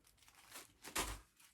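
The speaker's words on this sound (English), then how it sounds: "Silk paper noise." A brief burst of crinkly paper rustling, with a louder crumpling swish near the middle and softer rustles around it, close up.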